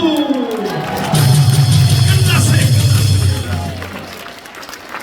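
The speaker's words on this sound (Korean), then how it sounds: "박수" A church hall audience breaks into applause and cheering that swells for a couple of seconds, then fades under a speaker's voice.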